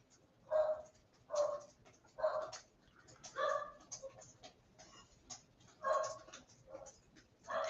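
A dog indoors gives a run of short, moderately loud barks mixed with whimpers, roughly one every second, with quiet gaps between them.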